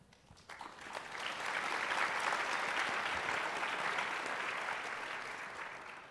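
Audience applause at a conference keynote panel, a broad wash of clapping that rises over the first second, peaks and stays full, then tapers slightly toward the end.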